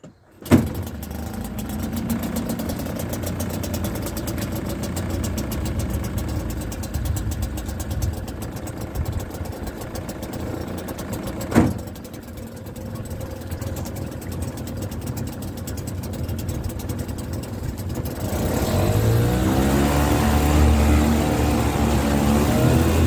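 A Johnson 5 hp two-stroke outboard motor from 2000 idles steadily, with a sharp click near the start and another midway, then the engine note rises and roughens as the throttle opens toward the end.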